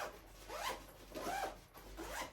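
Zipper on the extendable section of a Tropicfeel NEST backpack in tough fabric, three quick zipping strokes in a row, close and quiet, with no talk.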